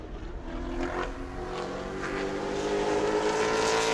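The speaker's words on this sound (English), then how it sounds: "Logan Boyette, our next car to take time." A Pro Late race car at New Smyrna runs a solo qualifying lap, its engine droning steadily and swelling louder as it nears, with a rising whine over a continuous roar and no talk.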